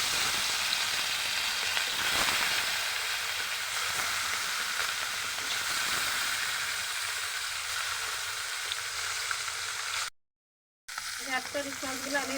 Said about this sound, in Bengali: একটা ফ্রাই প্যান আমি পরিমাণ মতো তেল দিয়ে দিচ্ছি মাছটা ভাজি করার জন্য।